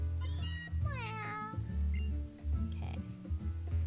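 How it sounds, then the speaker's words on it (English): A kitten meowing in the Pokemon Sun video game, several rising and falling meows over a steady tropical background music loop. "Let's talk to our kitten."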